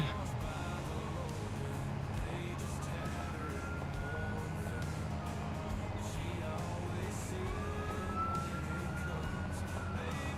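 A fire truck siren wails in the Oak Bridge Farm multiplayer farming game, its rising and falling tone steady but mid-distance beneath a constant rumble of engines and ambient game noise.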